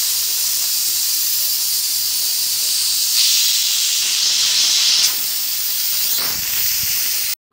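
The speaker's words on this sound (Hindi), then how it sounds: "प्रेशर कुकर की प्रेशर को रिलीज़ होने देंगे।" Loud, steady steam hiss from a pressure cooker cooking beef trotters, venting for several seconds, shifting pitch midway, then cutting off abruptly.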